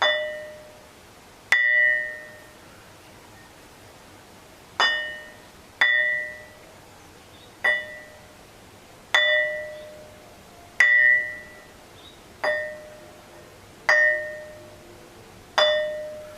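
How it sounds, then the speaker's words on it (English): A hand-held piece of metamorphosed quartzite with a black or charcoal surface, struck about ten times at uneven intervals, each blow a clear bell-like ring that decays quickly, close and alone. "the original color of the metamorphosized quartzite that's underneath. And that's how it rings."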